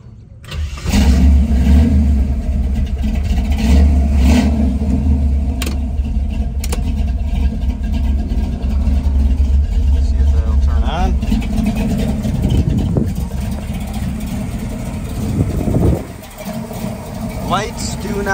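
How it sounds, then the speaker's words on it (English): A 1967 Chevrolet Camaro engine cranks and starts, then runs with a deep rumbling idle and occasional revs, while a person talks over it. "so let's turn the car on"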